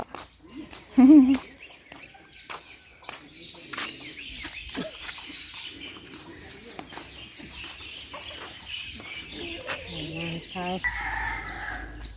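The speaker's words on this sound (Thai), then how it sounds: "ไก่มิเตอร์ตัวงามๆจ้ะหางยาวๆ" A rooster crows loudly early on at a Thai temple, followed by further crowing and clucking from other fowl, with occasional voices in the background.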